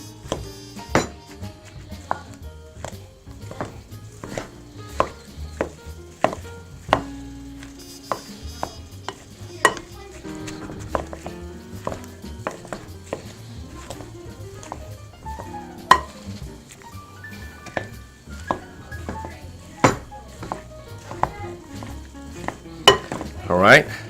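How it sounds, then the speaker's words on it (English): Hot baked red potatoes being mashed in a bowl with a hand masher, making a run of soft close thumps and knocks with occasional scraping and clinks. "All right, we're gonna just mash them up."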